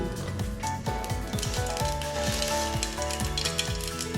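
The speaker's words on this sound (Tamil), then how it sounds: "இதுக்கு கடுகு, சீரகம், மிளகு போட்டு ஒரு சின்ன தாளிப்பு" Mustard seeds, cumin and black pepper sizzle in hot oil for a light tempering, a steady close crackle and hiss with a tonal melody running underneath.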